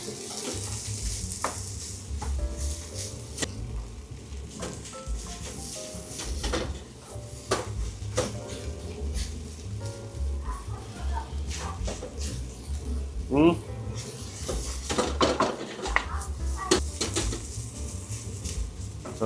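Spring onion and carrots stir-fried with rice for garlic fried rice, giving a steady low sizzle with occasional scrapes and clinks of the pan, continuous throughout, with a voice talking over it.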